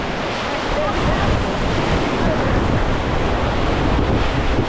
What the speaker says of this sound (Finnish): Koski rauhoittuu vähän.